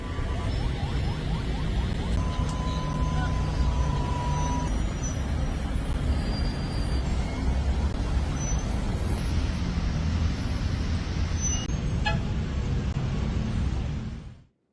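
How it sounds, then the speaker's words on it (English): Jammed road traffic of vehicles fleeing in Lebanon rumbles continuously, with a dense, low engine drone, passing cars and trucks, and a brief air-brake hiss, loud and steady for about fourteen seconds before cutting off. "Just look at these traffic jams."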